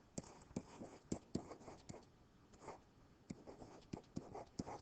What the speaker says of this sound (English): I'll write in blue